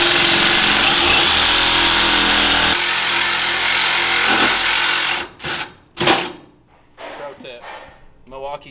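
Reciprocating saw cutting on a Camaro during strut work, a loud steady buzzing cut that stops about five seconds in, followed by a few sharp clanks and brief talk.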